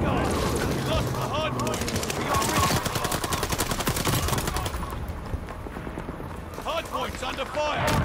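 Rapid automatic gunfire rattles in a Call of Duty Vanguard multiplayer match with an MP40, long dense bursts of close shots, then quieter scattered fire, while a player talks over it.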